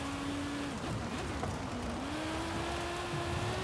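Audi Quattro S1 in the video game Forza Horizon 5 drones with a steady engine note that dips and climbs in pitch, continuous and moderately faint beneath a dense roar of road and wind noise.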